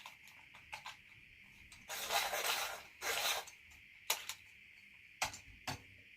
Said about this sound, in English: Now my white, it needs a sharpen from the last time.